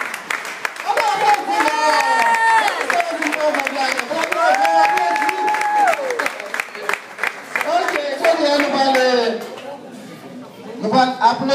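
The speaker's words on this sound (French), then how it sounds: "Applaudissez encore plus fort!" Church congregation applauding during an appreciation ceremony for a pastor and leaders, sustained clapping and crowd noise mixed with a loud voice talking over it, tapering off near the end.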